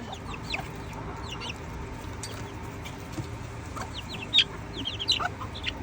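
Young silkie and frizzle chickens, backyard pullets, give soft, scattered clucks and chirps at close range over a steady low background hum, with a couple of louder calls near the end.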